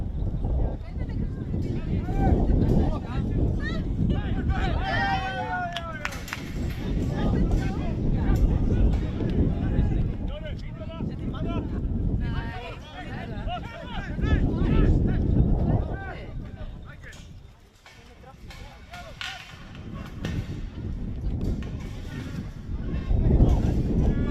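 Strong wind buffets a microphone outdoors at a men's football match, with heavy low rumbling gusts that swell and ease across the whole stretch, and a commentator talks over it.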